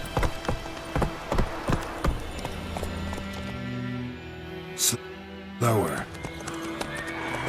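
Roach, the horse in The Witcher 3, gallops with rapid hoof clip-clops, then gives a sharp neigh near the end, while voices talk over the hoofbeats.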